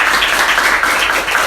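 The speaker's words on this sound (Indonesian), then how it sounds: "Tepuk tangan untuk kita semua." A group in a university teaching session claps together in a short, dense burst of applause that stays loud and even throughout.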